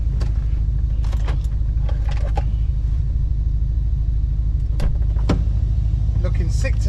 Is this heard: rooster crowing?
no